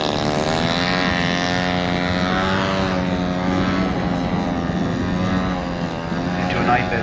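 A model aircraft engine at an air show drones loud and steady throughout, a strong buzzing whine with a harmonic hum, during a torque roll down the runway, with a public-address voice speaking over it.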